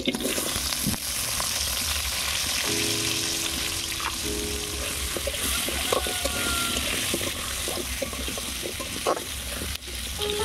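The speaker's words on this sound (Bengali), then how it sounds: "এবারে আলু ভেজে নেব।" Potatoes sizzle and crackle steadily in hot oil, a continuous frying hiss with occasional stirring clinks, no talking.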